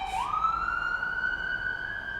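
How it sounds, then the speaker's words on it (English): A single siren wails steadily and loudly, its pitch rising at the start and then holding a long sustained tone, with faint street noise underneath. "there are always sirens on this street"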